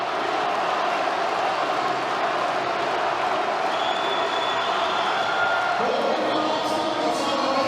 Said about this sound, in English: The crowd going absolutely crazy for Bobby after he shouldered that.